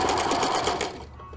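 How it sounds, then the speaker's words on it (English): Sewing machine stitching a seam close to the fabric edge with the presser foot lowered, a rapid steady mechanical whir heard up close that stops after about a second. "So we'll go back to the sewing machine, and I'm going to lower the presser foot"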